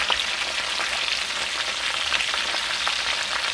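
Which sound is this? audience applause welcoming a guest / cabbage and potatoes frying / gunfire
cabbage and potatoes frying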